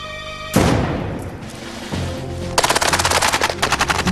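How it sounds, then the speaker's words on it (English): Rifles fire during military training: one loud report with a long decay, a second shot, then a fast, close burst of rapid rounds cracking in quick succession. "rapid fire now, rapid fire now."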